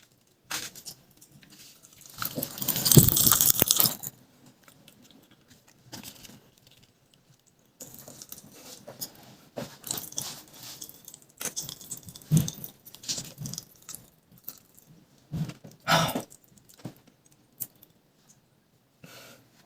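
Close, crackly popping and crunching of popping candy in a mouth held to the microphone, with irregular bursts of snapping and fizzing, loud at times and fading between.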